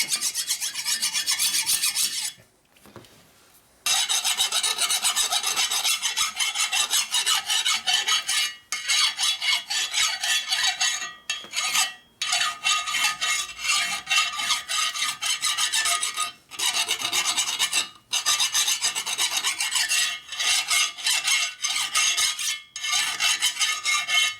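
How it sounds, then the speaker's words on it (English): Steady, continuous rasping of a fine file stroking across the flat metal surface of a 1972 Harley-Davidson Ironhead Sportster 1000cc part, close and fairly loud, with a few brief pauses between runs of strokes. "switch over to your fine file, which is a lot finer grit"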